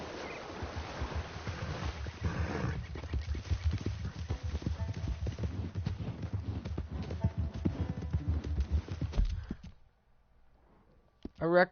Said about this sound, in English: What's up with my horse running away from me like that?